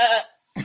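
A person imitating a dolphin produces a short bleating, goat-like vocal burst, then a brief gap and a second rough throaty sound, close and loud.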